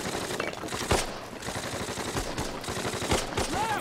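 Dense gunfire from the Men of War World War II strategy game, with German troops firing back: continuous rattling machine-gun bursts and sharp individual shots overlapping throughout, loud and busy with no pauses.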